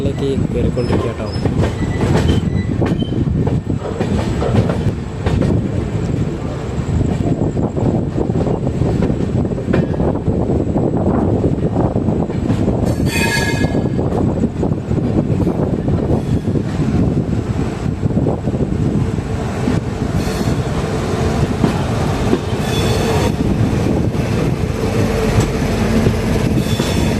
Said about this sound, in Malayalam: നമ്മളിത് ഷൊർണൂർ ജംഗ്ഷൻ റെയിൽവേ സ്റ്റേഷനിലേക്ക് കയറിക്കൊണ്ടിരിക്കുക കേട്ടോ.